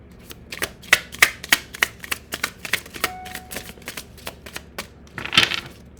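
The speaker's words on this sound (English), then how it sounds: "Let's see what we have in the tarot here." A deck of tarot cards is shuffled by hand, a quick series of crisp riffling snaps and flutters, close and fairly quiet, with no talking.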